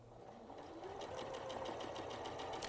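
A sewing machine runs steadily through fabric for a few seconds, its motor hum and rapid needle clatter close and fairly quiet, with no voices over it.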